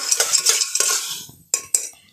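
A utensil scrapes and stirs popcorn kernels with oil, turmeric and salt in a pressure cooker pot, giving quick scraping strokes followed by two sharp metallic clinks, close and with no talking.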